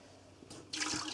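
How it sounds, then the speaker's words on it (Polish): Water poured from a cup onto a small plate set inside a shrimp aquarium, a brief soft trickle that swells into a splashing gush near the end, close and fairly quiet. "i leję na ten talerzyk. Woda się nalewa"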